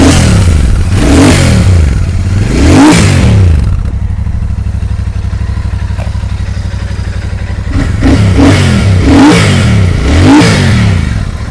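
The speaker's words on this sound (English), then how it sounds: "mari kita cuba start tengok ini Super Metal 650 bunyi dia macam mana" A 2023 Royal Enfield Super Meteor 650 motorcycle engine starts and revs loudly nearby, with repeated sharp throttle blips, then settles into a steady idle before another series of revs.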